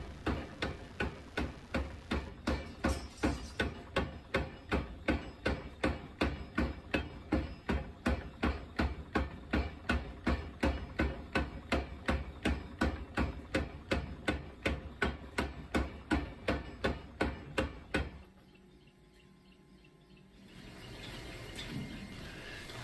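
A hot steel billet of stacked W-pattern layers for a mosaic bolo blade is hammered during a forge weld: rapid, evenly spaced heavy strikes for about eighteen seconds, then they stop, leaving a quieter hiss.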